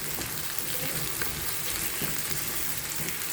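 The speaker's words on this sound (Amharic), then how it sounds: "ቡናም እያፈላሁ ነው።" Coffee boiling in a pot on a stove, giving a steady, close bubbling hiss with a sizzling texture that runs unbroken and fairly quiet throughout, with no talking.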